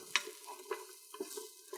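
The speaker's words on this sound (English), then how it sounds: "you can hear the sear in that, the sizzle" Onions sear and sizzle in a hot pan for an American chop suey, with soft crackling frying under repeated stirring scrapes and taps of a utensil, close and fairly quiet.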